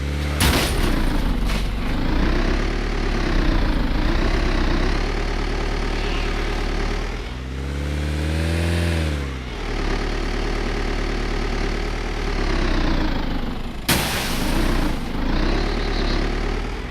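A heavy tractor engine in the video game DayZ Breaking Point drones and idles with shifting pitch, revving up and easing off, steady and close throughout.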